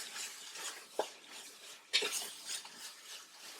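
Sugar-free carrot halwa being stirred in a pan, quiet scraping and shuffling with two distinct metallic clinks of a spoon against the pan, close and fairly soft, no talk.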